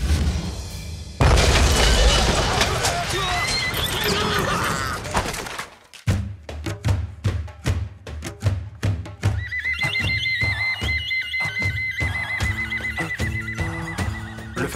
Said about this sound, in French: Retournez les canons et ouvrez le feu sur cet homme masqué!